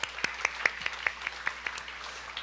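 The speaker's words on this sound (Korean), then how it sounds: "우리를 불러주신 하나님께 감사와 영광의 박수 한번 올려드리겠습니다." Light, sparse clapping from a youth congregation at a Sunday church service, with roughly a dozen separate claps in a loose rhythm, fairly quiet over a low room hum.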